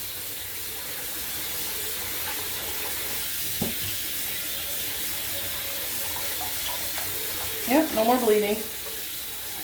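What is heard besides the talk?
tap water running while rinsing yarn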